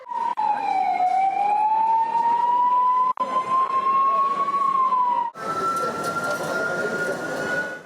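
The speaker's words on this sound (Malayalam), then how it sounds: "സംസ്ഥാനത്ത് വിവിധയിടങ്ങളിലായി 4 മണിയോടെ മോക്ക് ഡ്രില്ലിനായി ആദ്യ സൈറൻ മുഴങ്ങി" A long, steady air raid siren for a civil defence mock drill in Kerala wails loudly, its pitch dipping then holding, with a second siren sounding after a brief break.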